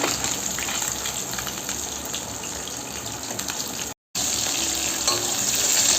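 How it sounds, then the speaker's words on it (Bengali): Fish frying in hot oil for a homemade fish-and-potato curry makes a continuous, fairly soft sizzle that cuts out for a moment partway through, with no voices. "আমি মাছগুলোকে লাল লাল করে ভেজে ফেলেছি,"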